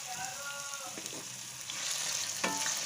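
Carrot and onion pieces sauté in a pan, giving a soft continuous sizzle with a few light stirring scrapes, close but fairly quiet.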